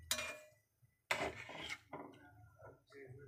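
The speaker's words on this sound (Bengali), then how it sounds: "আমি এখন ঢাকা দিয়ে দিলাম জিনিসটাকে" Lid being set onto a cooking pot of Maggi noodles, giving a brief metallic clatter and scrape of pot and lid, followed by quieter rattling and rubbing kitchen sounds.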